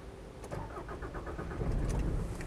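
A Mitsubishi Pajero 2.8 turbo diesel, long wheelbase automatic, cranks briefly and fires up, settling into a steady, close diesel idle with no voices.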